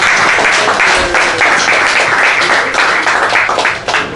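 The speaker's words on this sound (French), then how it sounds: "Qu'on applaudit au préalable" An audience at a business conference on enterprise development and labour relations applauds loudly and continuously for a speaker, a dense, even wash of clapping held close for several seconds with no talk.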